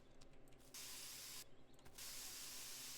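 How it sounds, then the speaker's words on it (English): Spray paint hisses from a can in Spray Paint Simulator, with two long, steady, bright sprays broken by short gaps, soft and close. "I like spray painting the grass."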